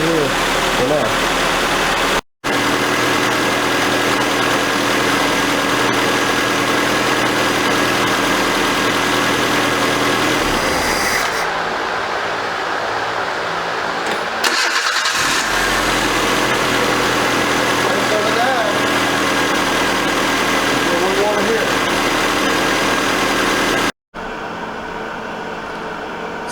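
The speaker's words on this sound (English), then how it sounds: "But that engine runs real good." A 1982 Nissan 720 King Cab truck engine idles steadily and loudly up close, a constant low rumble with a couple of brief dropouts, while a person talks over it at times.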